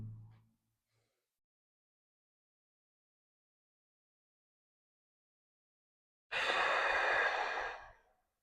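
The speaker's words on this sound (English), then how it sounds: "this is always going to be breathing in through the nose, out through the mouth" A brief faint breath is followed by a long silence, then one loud, close, drawn-out exhale through the mouth lasting over a second in a seated relaxation breathing exercise.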